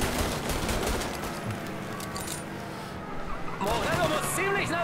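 Sustained volleys of machine-gun and pistol fire in the Mafia Definitive Edition video game, loud and rapid, with a car engine and voices heard underneath. The shooting grows denser toward the end.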